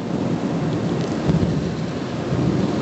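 Heavy rain pours down steadily during a thunderstorm, with low thunder rumbling beneath the dense hiss of the downpour, close and continuous throughout.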